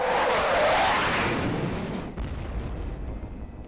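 Loud, dense roar of gunfire and blasts from a DOS fighter pilot game, a steady wash of noise that eases slightly partway through with no voices.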